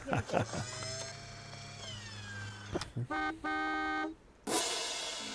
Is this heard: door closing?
no